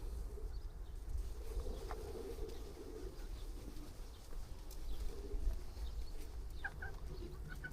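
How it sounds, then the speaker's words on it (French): Chickens cluck in a busy farmyard amid steady low background noise, with a few brief calls standing out now and then. "Les poules. Un canard avec les poules."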